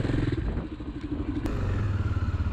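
A 600 XT motorcycle is ridden off-road on cross-type terrain with bumps, its engine a loud steady drone with some clatter, close by.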